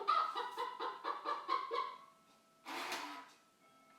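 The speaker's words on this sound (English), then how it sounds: "that's our chicken cuckoo clock again" Chicken cuckoo clock going off indoors with a run of rhythmic mechanical clucks, about seven regular pulses, followed by a brief louder crowing-like burst, fairly close with no talk over it.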